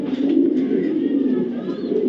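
A female checker pied pigeon coos close by, a low, soft rolling murmur held steadily for about two seconds.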